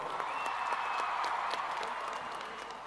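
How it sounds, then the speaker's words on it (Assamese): An outdoor crowd at a Guwahati Bihu dance performance claps for the dancers, steady and fairly distant, over a broad background hum with a faint sustained tone. "সকলো দৰ্শকসকল আমাৰ বিহুৱা বিহুৱতীসকলৰ কাৰণে এটা ডাঙৰ হাত চাপৰি"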